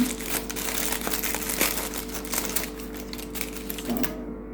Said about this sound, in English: So I'm just going to take my pair of scissors and we're going to cut it down.